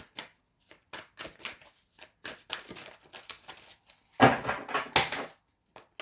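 Repeated riffling and flicking of a deck of tarot cards, close by, in short bursts with brief pauses and a louder flurry near the end.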